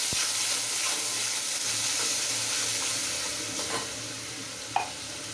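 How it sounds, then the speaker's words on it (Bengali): Spice masala sizzles loudly in a hot pan after a splash of water, a dense continuous hiss with light stirring scrapes and a brief clink near the end, no voices. "এবার এই মশলায় একটু জল দিয়ে দেব।"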